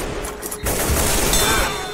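Rapid gunfire bursts in the Left 4 Dead 2 zombie shooter game, a dense loud volley of shots that swells after a brief dip and continues steadily to the end.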